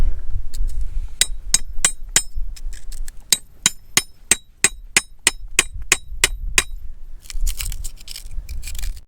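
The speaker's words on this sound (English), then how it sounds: "So I got a makeshift sledge and chisel." A makeshift sledgehammer strikes a chisel on rock while digging out a gold nugget, some twenty sharp metallic clinks in a quick, fairly even rhythm, close and loud over faint outdoor background.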